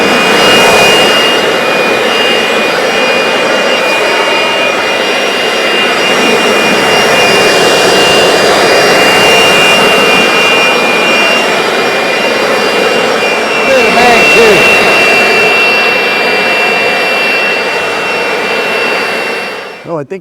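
Compressed air blasts dust off an HVAC unit being swapped out, a loud continuous hiss and roar lasting the whole stretch with only slight swells, close to the microphone.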